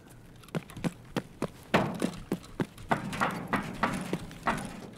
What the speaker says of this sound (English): So you'll see my footsteps get a lot louder.